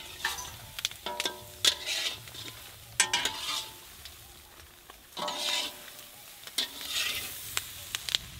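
Large shrimp frying and sizzling in a pan outdoors while being stirred, with repeated scraping stir strokes and clinks over a steady sizzle, no voices.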